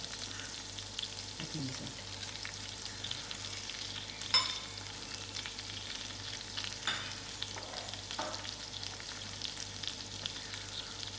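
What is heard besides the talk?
butter melting and sizzling in pan for curry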